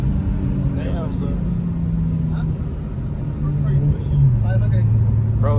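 A Jaguar fitted with a 2JZ engine drives along canyon roads, its engine a steady mid-pitched drone that rises in pitch near the end, heard under ongoing conversation inside the car.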